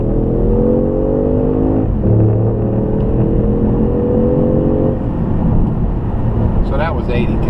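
An Audi accelerates onto a highway, engine note climbing in pitch through gear changes over a steady road rumble, with people talking inside the car.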